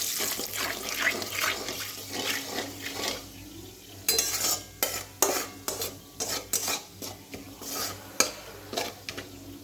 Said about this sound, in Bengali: এই পটল ভাজার তেলেই আমি এখন ফোড়ন দিয়ে দেবো